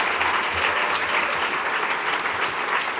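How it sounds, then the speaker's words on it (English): Steady, dense applause from a large conference audience at the 2014 Homelessness Conference, continuous clapping without a break for the full duration. "So let's give them a big round of applause."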